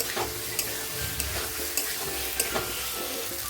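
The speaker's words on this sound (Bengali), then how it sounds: "এখন আমি ভেজে রাখা আলুটা অ্যাড করে দেবো, দিয়ে মশলার সঙ্গে আলুটাও ভালোভাবে কষিয়ে নেবো।" Fried potatoes being stirred with spices in a hot pan, a continuous sizzle broken by sharp scraping taps of the spatula every half second or so, close and alone.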